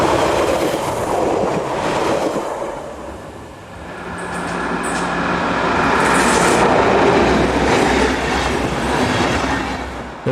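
A locomotive-hauled passenger train on the 1909 service from Marktredwitz rolls past close by, a steady loud rumble of wheels and carriages with rhythmic clatter, swelling and easing as the cars go by, with a brief high squeal midway.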